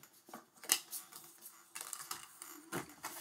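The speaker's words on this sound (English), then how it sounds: "You're going to shuffle these up and deal everyone 2 cards" Decks of game cards for a storytelling board game are shuffled by hand, giving a few quiet riffling and sliding bursts alone, with sharper flicks near the start and end.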